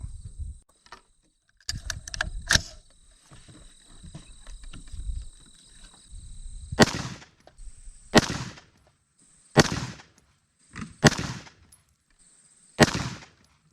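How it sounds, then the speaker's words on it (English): An AR-15 rifle chambered in .223/5.56 fires five loud, sharp shots at irregular intervals of one to two seconds, each crack with a short ringing tail, preceded by faint handling noises and a steady high electronic tone. "I went ahead and got it zeroed, and we're going to shoot a 5-shot group"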